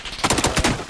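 Sniper and other gunfire in a ranked Marauder match, a rapid run of sharp cracks spaced across under a second, loud and close against a busy game background.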